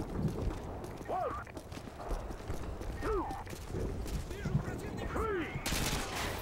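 Gunfire in Call of Duty: Modern Warfare 2 campaign combat: rapid crackling shots and bursts under ongoing battle noise and a whining, sweeping effect, moderately loud and steady.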